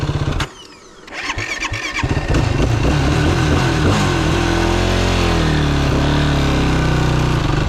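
A Yamaha YFZ450R ATV engine cranks and fires, then roars loudly up close. The revs climb and hold at a high pitch, rising and falling in sustained pulls.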